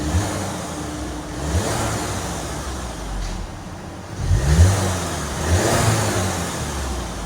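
A 2018 Audi A3 S-Line with the 2.0L turbo and stock exhaust is revved several times, each blip a moderate swell over a fairly quiet idle, heard nearby and without speech.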